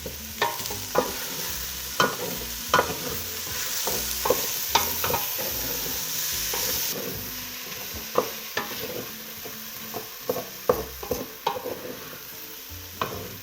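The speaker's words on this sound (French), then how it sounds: "Nous rajoute les oignons. On fait revenir 2 à 3 minutes." Onions sautéing with potatoes in a pan for a Réunion-style potato zembrocal, a steady sizzle broken by frequent sharp scrapes and taps of a utensil stirring, close and fairly loud, with no talking.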